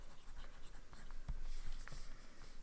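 Medium-nib Lamy Aion fountain pen in dark green writing with Papier Plume Ivy Green ink, a faint, close scratching of nib on paper with small irregular strokes and taps, quiet throughout.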